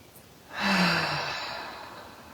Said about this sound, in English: let's do a deep inhale through the nose and exhale out the mouth